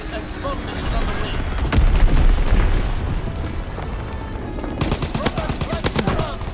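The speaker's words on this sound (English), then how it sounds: "Fighter pilot ready for strafing run." Strafing-run gunfire in the World War II video game Call of Duty WWII: dense, loud bursts of rapid fire and booms over a steady roar, with sharper volleys near the end.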